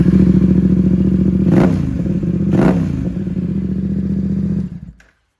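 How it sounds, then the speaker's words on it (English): A 2025 Yamaha MT07 with an Ixil full exhaust idles with a steady, fairly quiet low burble, twice interrupted by brief revving blips before the engine cuts off and falls silent. "Exhaust sounds pretty quiet as it sits."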